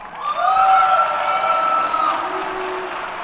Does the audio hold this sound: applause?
yes